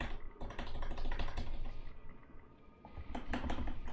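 Fingers tap busily on a computer keyboard, a close, steady patter of clicks that briefly thins out before picking up again in a quick flurry.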